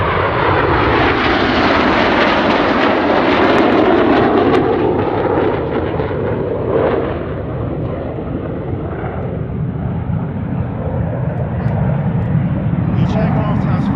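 Red Arrows RAF jets roar past on a smoke pass at the Oregon International Airshow, a loud sustained engine rumble and whoosh filling the whole stretch with crowd noise beneath.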